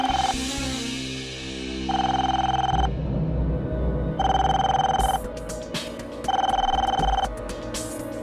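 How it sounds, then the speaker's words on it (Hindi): A telephone rings in three long electronic bursts with pauses between them, loud and close, over a background music track. "फोन उठाओ"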